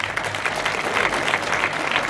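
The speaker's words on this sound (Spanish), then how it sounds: "Un aplauso para ellos también." An audience at a live stage show claps steadily, a dense even applause filling the room without pause.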